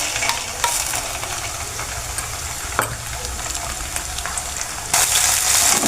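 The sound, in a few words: sautéing ground masala paste with onion in oil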